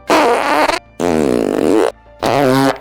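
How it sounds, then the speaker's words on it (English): Three loud, drawn-out comic fart sound effects, each a buzzy, wavering blast lasting most of a second, separated by short silences. "these were not just ordinary farts"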